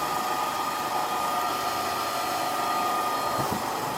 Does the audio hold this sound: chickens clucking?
no